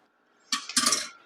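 A metal whisk clinks against a mixing bowl during keto chocolate chip cookie batter prep, giving a couple of close, bright clinks in quick succession.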